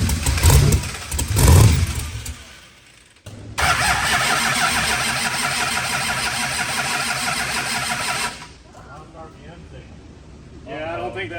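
A sand car engine cranks, catches and runs, a steady mid-pitched roar lasting several seconds before dropping off, with people talking and cheering around it.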